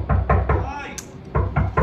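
Repeated knocking on a door comes in two bursts of three quick, heavy thuds, separated by a short pause, with a voice briefly heard in the gap.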